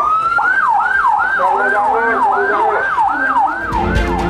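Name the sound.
ambulance siren evacuating students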